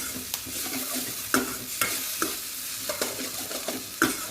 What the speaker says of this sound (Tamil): இது நல்லா மிக்ஸ் பண்ணி விட்டு கொஞ்சம் நேரம் அந்த மிளகாய் தூள் இதெல்லாம் வந்து நல்லா சேர்ந்து வர அளவுக்கு நல்லா வதக்கிட்டு ஃப்ரை பண்ணிவிட்டு